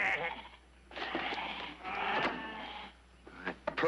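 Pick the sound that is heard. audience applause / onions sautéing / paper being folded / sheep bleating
sheep bleating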